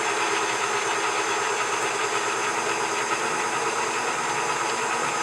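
An electric mixer whirs steadily, beating vegetable oil, sugar and vinegar into eggnog cupcake batter, a close, even motor hum with a faint rattling texture and no talking.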